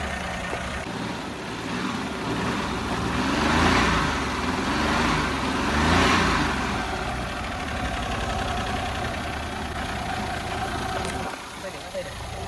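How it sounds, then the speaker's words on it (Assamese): A Maruti car engine idles steadily at close range, its low rumble swelling slightly a couple of times, with voices talking over it. "একদম সাউন্ড ইঞ্জিনৰ সাউন্ড শুনাই দেখিছে"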